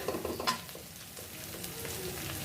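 Ground green chili and garlic paste fries in a pan with a quiet, steady sizzle and a brief scrape of stirring near the start.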